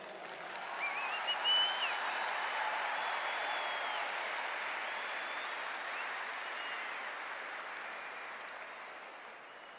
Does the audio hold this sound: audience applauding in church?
yes